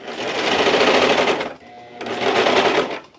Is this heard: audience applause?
no